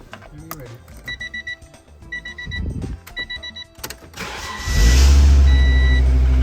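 A 1990s Acura engine cranks in a few halting attempts while electronic chimes beep and people talk nearby, then catches and roars to a loud, steady idle close by.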